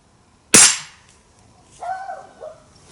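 A Gamo Varmit .177 break-barrel air rifle fires once with a sharp, loud crack, followed about a second later by a fainter ringing ping from a swinging steel target downrange.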